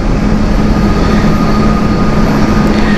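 Boeing 747 jumbo jet taxiing at Amsterdam Schiphol Airport, a continuous loud low engine drone with steady hiss, no voices.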